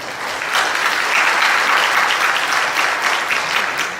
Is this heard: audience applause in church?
yes